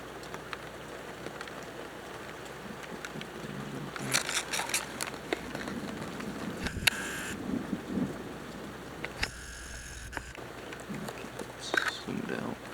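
A thunderstorm, the first of the year, rolls in with rumbling thunder and steady rain. Several loud cracks and broad bursts stand out over a constant wash of rainfall, and a voice speaks briefly.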